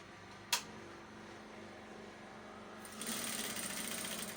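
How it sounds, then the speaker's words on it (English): A sewing machine set to a very loose stitch runs faintly, with a sharp click near the start and a steady, louder mechanical whir taking over toward the end. "So I'll set my sewing machine to a very loose stitch"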